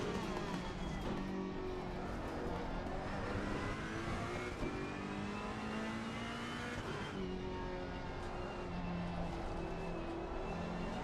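Ferrari race car in a racing video game at Snetterton, its engine droning loud and continuous for about eleven seconds, with the pitch rising and falling as the car accelerates and lifts off through corners.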